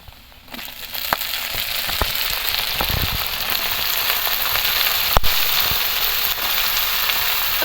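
Washed vegetables, pumpkin stems, hit hot fish oil with onions in a pan for a Bengali chorchori, giving a steady, loud, close sizzle with scattered sharp pops and crackles throughout.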